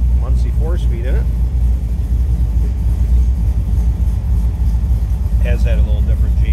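A 1966 Chevrolet Corvette roadster with a small-block 350 V8 and Muncie 4-speed idles with a deep, steady low rumble, close and continuous, while someone talks over it at the start and end.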